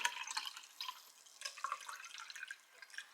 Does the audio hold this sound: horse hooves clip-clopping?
no